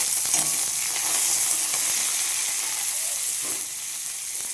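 Green chillies sizzle and fry in a hot pan, a steady bright hiss with light crackles and a few soft stirring clicks, close and continuous throughout.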